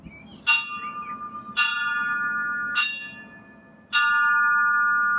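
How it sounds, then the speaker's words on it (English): A tall ship's bell is struck four times at steady, evenly spaced intervals, each clear metallic strike ringing on and overlapping the next with no voices. "You may suppose that 4 bells, for example, is struck like this."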